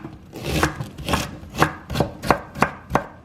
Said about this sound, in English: Here's my green cabbage. I'm just gonna finely shred it.